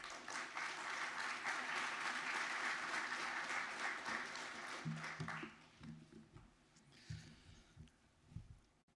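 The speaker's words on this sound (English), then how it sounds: "Let's give him a round of applause." A crowd applauds steadily for several seconds, the clapping thinning out toward the end as a few isolated claps and thumps remain.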